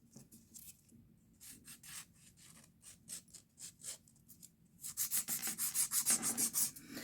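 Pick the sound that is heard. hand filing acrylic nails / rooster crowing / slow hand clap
hand filing acrylic nails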